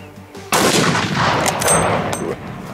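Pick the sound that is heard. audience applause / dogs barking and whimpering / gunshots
gunshots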